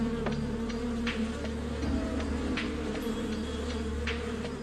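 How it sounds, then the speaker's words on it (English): Bees buzzing, a continuous dense drone of many insects with a steady hum and occasional brief louder passes close by. "the bees would need to start stinging to make the other bees aggressive"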